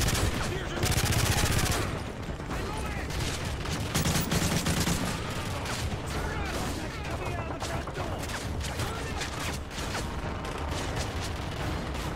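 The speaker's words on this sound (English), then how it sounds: "who's actually shooting me right now?" Dense, continuous gunfire from the Call of Duty: Modern Warfare 3 battlefield, with automatic bursts and heavy explosions layered throughout and steady loud combat without pause.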